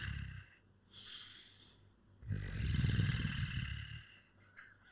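A voice imitates a growl, producing rough, throaty rasping bursts with short pauses between them and no speech.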